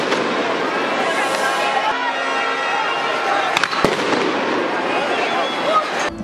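Dense protest crowd noise with sharp bomb bangs and crackling blasts, a few loud pops standing out over the steady roar of a large outdoor gathering.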